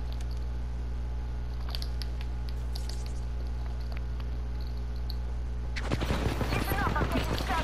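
Rapid bursts of gunfire from an Apex Legends arena match with the Bloodhound character break suddenly out of a low steady hum near the end and carry on loudly to the finish.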